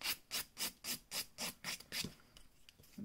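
A 180-grit nail file rubs back and forth across an acrylic nail in about eight steady, evenly spaced rasping strokes, close and crisp, then trails off into a few lighter, uneven passes.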